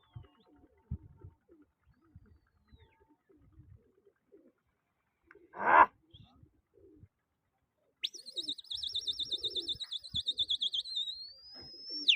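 Pigeons at an outdoor pigeon-flying contest: a faint bird call rises out of quiet background, then a long run of rapid, pulsing high-pitched whistling chirps continues steadily to the end.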